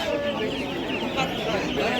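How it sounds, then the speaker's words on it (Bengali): Ducks, chickens and quail cluck and squawk nearby while people talk and haggle over a busy outdoor bird market din. "এইদিকে সমস্ত হাঁস মুরগি এসব বিক্রি হইতেছে"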